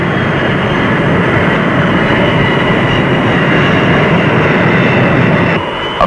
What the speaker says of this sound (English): you hit it in what has loosely been described as a controlled crash, immediately applying full engine power in case you fail to snatch the wire